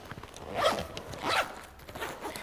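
A zipper on the pocket of a North Face Base Camp Hot Shot rucksack is pulled twice, two quick close rasping zips with a short pause between and a brief softer rasp after.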